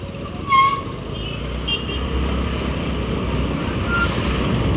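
Trucks in heavy road traffic on a rainy route between Dharmagarh and Jaipatna in Kalahandi, heard as a steady broadband roar of engines and tyres, with a brief air-brake hiss near the start and faint high tones above.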